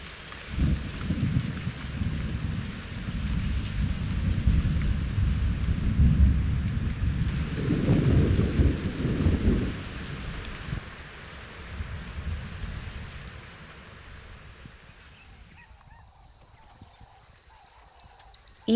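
Thunderstorm over the savannah at the end of a long dry season: heavy rain and deep rolling thunder build and peak midway, then ease to quieter rain with crickets chirping near the end.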